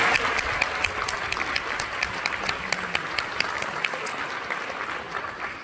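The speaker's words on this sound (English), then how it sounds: "Can we applaud the teachers in this district?" An audience applauds the district's teachers at a school honor jazz concert, a steady round of crowd clapping with a few sharp individual claps standing out, heard alone and at moderate distance.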